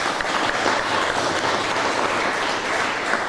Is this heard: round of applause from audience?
yes